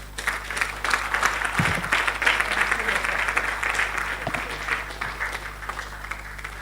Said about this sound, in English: Please, a warm round of applause for our keynote speaker